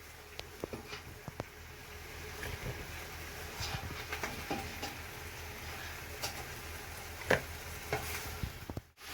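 Chicken pieces frying in a pan while being stirred, a quiet continuous sizzle broken by scattered scraping and clinking knocks of the spoon against the pan, with a sharper clatter near the end.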